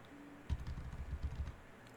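Typing a command on a computer keyboard in a cloud shell session: a short flurry of soft, quick key clicks and taps in the middle of the stretch, close and fairly quiet, with no talking.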